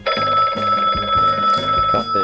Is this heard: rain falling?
no